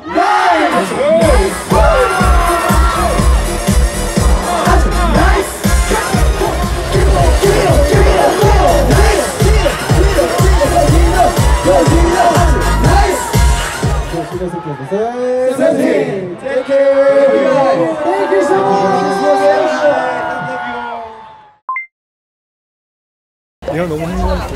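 A large concert crowd screams and cheers at full volume for about fourteen seconds, then the roar thins as singing and a few scattered shouts carry on before a sudden cutoff to silence.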